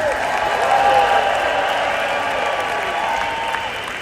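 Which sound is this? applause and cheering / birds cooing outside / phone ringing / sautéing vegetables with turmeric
applause and cheering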